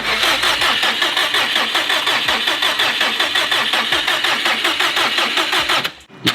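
A 2005 Subaru STI cranks over with a rapid, steady rhythmic starter whir for nearly six seconds, loud and close, before cutting off abruptly.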